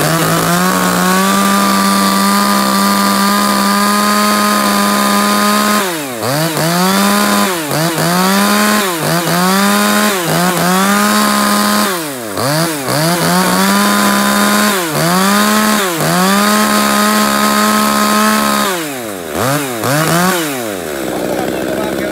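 A Japanese chainsaw engine runs nearby, its pitch rising and falling as it is revved repeatedly in short bursts over a steady idle.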